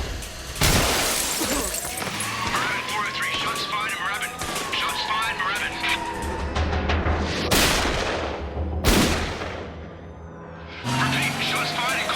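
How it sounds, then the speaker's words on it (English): Gunfire in a tense crime scene, several sharp loud bangs and bursts cutting through chaotic background noise, with voices shouting over the shots. "Frank, they're shooting at him!"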